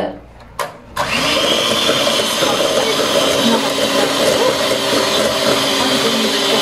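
An electric mixer whirs steadily and loudly, beating an opera cake mixture as hot syrup is poured in, starting after a brief clatter and a short burst, then running continuously.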